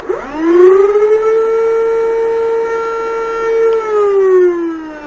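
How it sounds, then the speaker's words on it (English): A Nerf Rival Perses blaster's flywheels spinning up into a loud, sustained high-pitched whir that rises quickly, holds steady for several seconds, then starts to wind down. "the quality of the sound, the super high pitch whir, is, I would say, mainly down to the flywheels"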